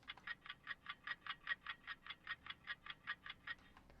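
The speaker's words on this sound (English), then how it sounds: "cool little clock ticking effect" Clock ticking effect in a music production, a crisp, bright, even series of about fifteen ticks at a steady quick pace, isolated and fairly quiet with no voices.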